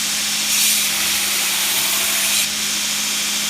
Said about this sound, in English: Knife making made easy with a Noob grinder.